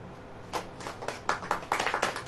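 An audience clapping hands at a church gathering, a short burst of close, uneven claps that quickens into a ragged cluster near the end, with no talk.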